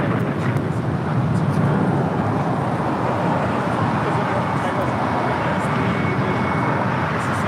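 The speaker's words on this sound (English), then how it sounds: "586 heading back to Shanghai at a 777-300ER, pushing back." A Boeing 777-300ER airliner pushes back at LAX, heard as a steady distant rumble and drone of airport engines over wind noise, with a voice talking throughout.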